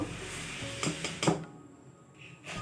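Flour and rice flour being mixed together in a bowl for dough, giving a few quiet clatters and scrapes of utensil against the bowl, with one sharper knock before the sound thins out.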